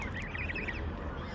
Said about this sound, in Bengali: বিভিন্ন প্রজাতির হাঁস, হাঁসের বাচ্চা